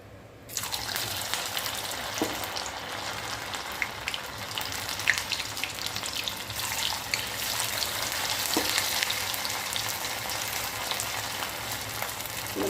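Sago pakoda batter fries in hot oil, a steady, dense sizzle with faint crackles and occasional pops running throughout, close and alone with no talking.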